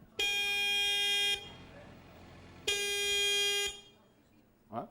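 Car number one's horn on a French television game show gives two long, loud, steady blasts separated by a short pause, then a brief sound starts at the end.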